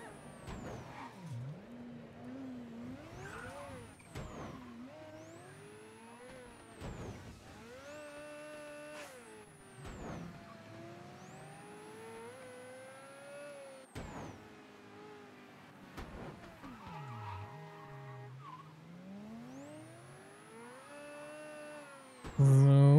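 A car in the video game Mafia 3 drives along and slides through a small drift, its engine revving and shifting up and down in pitch with periodic gear changes over a long stretch, moderately loud and steady.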